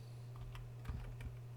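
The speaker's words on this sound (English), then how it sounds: "And then we can, once again, type in our function" Fingers tap a computer keyboard in a few quick, light keystrokes, faint and close over a low steady hum.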